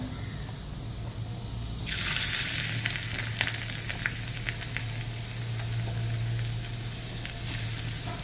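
Asafoetida, red chili and garlic drop into hot oil for a tempering, and after a low hum the frying bursts into a bright, loud crackling sizzle that holds steady with scattered pops.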